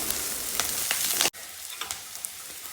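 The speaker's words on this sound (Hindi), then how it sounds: "अब इसको थोड़ा सा चला के और पका लेना है" Vegetables sizzle steadily in a hot pan, lightly salted and softening, with scattered clicks of stirring and a brief sharp dropout midway before the frying resumes.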